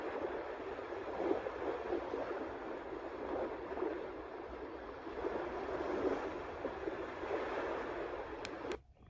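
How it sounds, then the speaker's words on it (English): Gentle small sea waves from a Magicteam sound machine, a continuous broadband wash of surf that swells and eases softly for several seconds before cutting off abruptly at the end. "The 17th is little sea wave."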